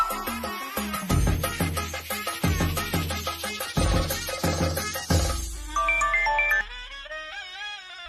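A mobile phone ringing as a call is placed to a father, a loud repeating melodic ringtone in rhythmic bursts that shifts into a higher tune before fading out.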